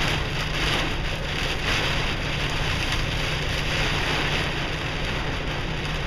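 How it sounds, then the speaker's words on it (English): A dense, constant drumming of hail pelting a hard surface in a parking lot during a storm in Waco, loud and unbroken throughout. "hear the hail?"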